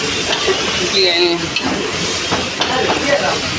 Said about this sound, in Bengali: ভালো করে একটু নেড়ে মশলাটার মধ্যে একটু আলু আর মাংসগুলো কষে নিতে হবে।